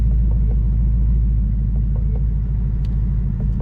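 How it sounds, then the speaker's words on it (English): A 2025 Ford Mustang GT engine runs with a deep, steady rumble close by, holding an even low drone throughout with no voices. "start it up and show you guys here."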